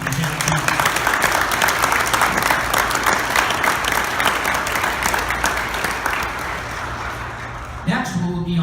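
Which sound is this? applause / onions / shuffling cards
applause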